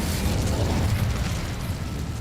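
The Incendio fire spell is cast in a video game, producing a dense, roaring whoosh of flame with crackling, mechanical texture that stays loud and steady throughout the short burst.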